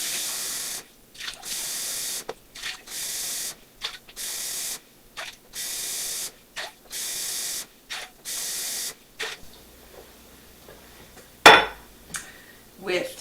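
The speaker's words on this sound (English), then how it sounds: "we are going to add 7 cups of water to this large bowl" Water runs in repeated bursts into a large bowl for homemade hot pepper rings, alternating with short pauses, then a few clattering handling sounds near the end.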